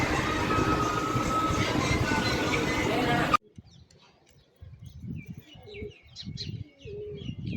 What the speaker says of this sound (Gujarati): કબૂતરાને સિંગ ખવડાવી રહ્યા છે.